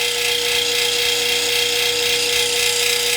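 An agate cabochon ground on a 600 grit wheel on a lapidary machine, a continuous loud motor whine with a steady grinding hiss, unchanging throughout and heard close.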